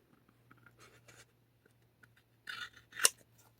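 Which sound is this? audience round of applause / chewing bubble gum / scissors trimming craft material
scissors trimming craft material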